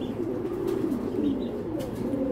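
A large female grizzle racing pigeon gives soft, low throaty coos close by, a continuous burbling murmur with a few faint chirps in the background.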